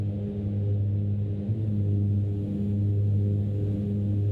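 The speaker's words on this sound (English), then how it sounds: "We're just going to listen to the sounds of the airplane." Dash 8 Q400 turboprop engines in a flight simulator game drone in a steady, even hum that stays constant throughout, with no talking.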